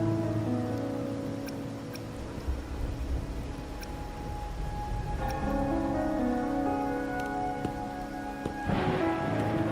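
Rain in the video game Wuthering Waves falls steadily beneath sustained tonal music, a soft patter under a sparse melody with occasional light percussive ticks.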